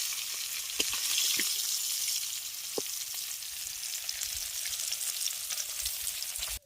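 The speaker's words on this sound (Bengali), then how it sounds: "এবার এই তেলের মধ্যে মূলকে মাছের মতন একটু নিই লাল হয়ে ভাজা হয়ে গেছে" Radish fries in hot oil left over from frying pangas fish. A steady close sizzle with crackles and small pops continues throughout and ends in a sharp clink.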